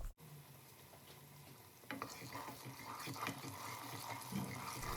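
Herbal hair oil with curry leaf stems is stirred in a pan over low heat, giving a steady soft scraping and faint sizzle that grows busier after the first couple of seconds, with no talking.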